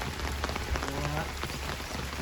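Steady rain falling around a reportedly haunted house, a dense continuous patter with faint murmuring in the background.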